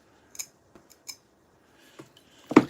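Kitchen scissors snip open a shrimp shell along its back to devein it, a few short separate clicks and cuts ending in one louder, closer snip, with no talking.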